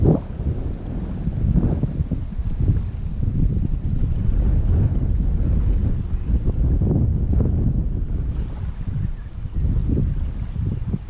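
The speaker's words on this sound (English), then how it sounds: "this is gonna be a bit difficult with the wind the way it is" Strong wind blasts over the microphone at the waterside during lure fishing, a steady, loud rumbling roar that swells and dips throughout with no other clear sounds.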